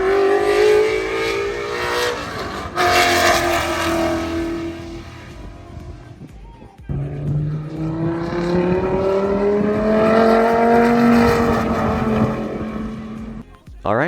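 Race cars lap Hallett track during a practice session, each engine note swelling loudly as it accelerates past and then falling away in long rising and dropping sweeps.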